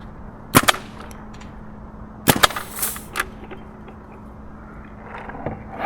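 A Tippmann A-5 paintball gun firing: sharp close pops in a couple of quick bursts, two or three shots each, separated by quieter gaps with faint mechanical clatter between.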